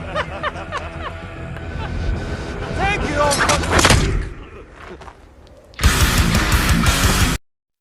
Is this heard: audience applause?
no